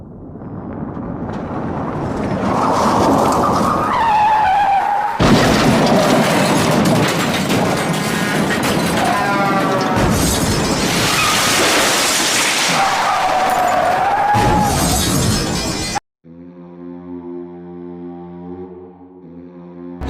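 Staged motorbike road accident crash effect in a school play: loud, sustained bursts of roaring broadband noise with heavy booms for about sixteen seconds, cutting abruptly to a quieter steady musical tone.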